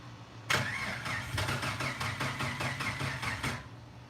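A freshly rebuilt 4.0 engine catches on a first start attempt, a rapid rhythmic cranking-and-firing chug that bursts in loudly after a short pause, runs for about three seconds with regular pulses, then cuts back to a quiet background hum.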